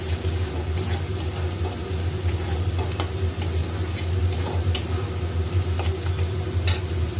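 In a pan for chili chicken, a pakora masala mixture with ginger paste and cornflour is stirred, giving a steady soft sizzle with light scraping ticks throughout.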